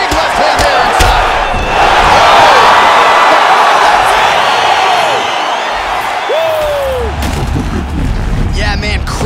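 An arena crowd in the UFC 5 video game roars after a knockout, a loud sustained wave of cheering and whoops that swells and holds, with a commentator's voice over it.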